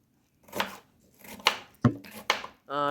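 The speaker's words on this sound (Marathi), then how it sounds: "हे पण मी या पद्धतीने याचे तुकडे करते" Knife strokes chopping beetroot and cucumber into pieces on a board, four or five separate crisp cuts spaced irregularly, close and clear, with a short voiced sound at the very end.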